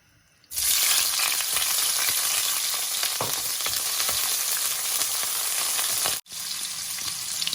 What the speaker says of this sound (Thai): จะผัดกุ้งให้สุกก่อนค่ะ